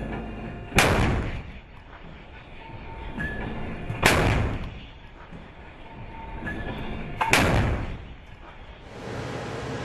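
Mk45 5-inch naval gun mounted on land during a live-fire test, three heavy booming shots spaced a few seconds apart, each a sharp blast trailing into a long rumbling decay.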